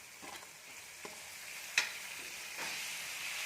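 Masala with salt sizzling and being stirred in a frying pan, a soft steady fry with a few light scraping taps of the spoon, fairly quiet and with no talking.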